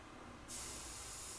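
An airbrush running at about 7 psi sprays paint in one soft, steady hiss that starts abruptly and holds, close and quiet with no voices.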